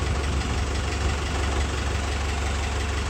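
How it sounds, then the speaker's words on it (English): A 1957 Farmall 350 tractor's four-cylinder Continental diesel engine idles steadily, a close, loud, continuous low rumble with a faint knocking texture and no talk over it. "That is a 1957 Farmall 350 diesel with a 4-cylinder Continental diesel engine"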